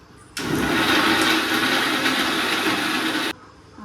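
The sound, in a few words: mixer grinding masala spices finely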